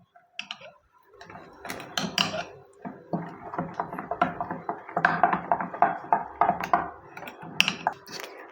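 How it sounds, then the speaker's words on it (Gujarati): A spoon stirs fried tempering into rice batter in a bowl, giving steady, close, rhythmic clinking and scraping that runs almost without a break from start to finish. "બધું આપણે એક સરખું મિક્સ કરી લઈશું"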